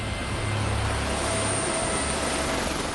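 A helicopter roars loud and close during a special forces counter-terrorism training exercise, its dense rotor and engine noise running unbroken throughout as troops hurriedly disembark.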